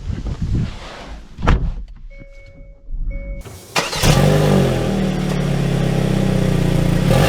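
A 2024 Hyundai Tucson XRT starting up: a door thunks shut, a couple of chimes sound, then the engine cranks and catches into a steady, fairly loud idle close by.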